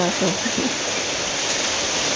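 Heavy rain pours into a pig pen at night, water splashing in, a dense steady roar; a voice speaks briefly at the start.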